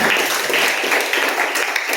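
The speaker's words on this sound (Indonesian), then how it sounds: "Tepuk tangan dong, tepuk tangan." A class of students applauding a teacher's guidance session, a dense, even patter of many hands lasting two seconds at moderate volume with no talk over it.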